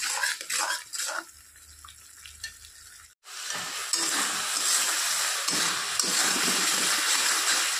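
Spice masala fries in a pan for an egg curry, first a few clanks and scrapes, then a brief pause and a loud steady sizzle with continuous stirring, no talk.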